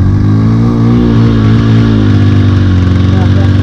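Motorcycle engine straining on a high-altitude uphill climb, a loud close steady drone with throbbing pulses as the throttle is held open, with a voice over it.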